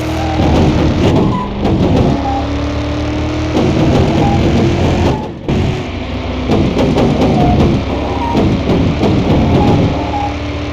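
Engine of a 7th-gen NASCAR race car driven in the Car Mechanic Simulator video game, a loud sustained roar that rises through gears and briefly drops near the middle before resuming.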